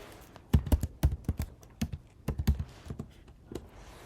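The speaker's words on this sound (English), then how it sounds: "So I type here." Fingers tap out an irregular burst of quick, close clicks on a computer keyboard, loud keystrokes clustered in short runs with brief pauses, no talking.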